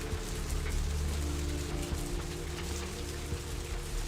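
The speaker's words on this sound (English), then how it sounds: "Don't worry, the rain will take care of that." Steady rain pattering on surfaces in the vampire video game Vampire: Bloodlines, a constant dense hiss with a low rumbling ambient bed underneath, no voices.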